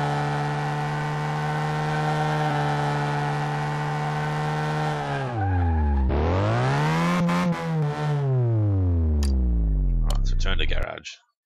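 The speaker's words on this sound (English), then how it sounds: "Can't restore a car without doing some donuts." A car in Car Mechanic Simulator 2018 spins through donuts, its engine droning and revving in a rising, falling, then rising pitch before cutting off abruptly at the end, with a few sharp squeals near the finish.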